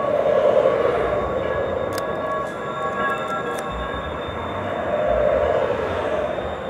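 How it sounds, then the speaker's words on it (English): A train arriving at a station rumbles steadily close by with a loud broadband roar, brief metallic clicks and squeaks rising over it as it rolls in. "but wait, there's a train coming in."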